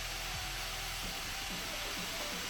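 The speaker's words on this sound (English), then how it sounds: "It's literally blowing this paper away." Acer Predator Helios 300 gaming laptop, 2019 model, with its cooling fans blowing hard in turbo mode, giving a steady, loud broadband whoosh with a low hum underneath and no talking.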